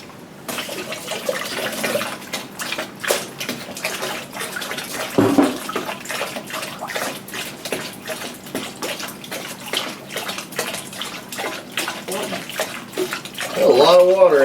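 Water pours steadily from a household pressure tank into a bucket, a continuous splashing gush that runs for several seconds with a brief louder surge near the end.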